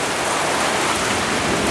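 Heavy rain pours down hard beside a carport during a violent windstorm in Walla Walla, a dense, steady, close roar of water with no pauses and no voices.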